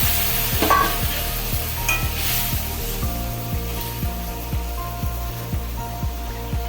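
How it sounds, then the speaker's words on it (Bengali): Hot water is poured into a simmering katla fish curry, bringing a steady sizzle and bubbling with a soft stirring scrape, a brief louder splash early on, then an even, close simmer. "একটু গরম জল করে রেখেছি, গরম জলটা দিয়ে দিলাম"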